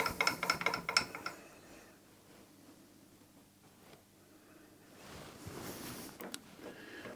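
A rotary table handwheel on a milling machine is cranked in quick ratcheting clicks at first, then fainter mechanical turning, all quiet and close.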